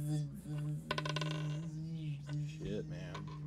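Dice clatter and rattle briefly on a hard surface during a tabletop role-playing game played live on stage, a short burst of clicking over a steady hum with voices around it.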